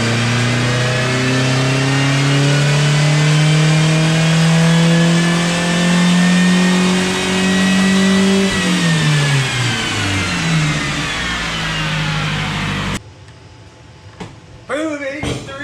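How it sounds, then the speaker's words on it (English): A Jeep Liberty engine runs on a dyno, revving up in a long, loud, rising climb before easing off and dropping away sharply near the end, followed by brief faint noises. "I just started this Jeep up for the first time in like 2 months."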